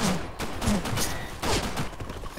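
M4 rifle fire in a video game, a few loud, sharp shots in quick clusters mixed with scuffling game sounds and a faint voice.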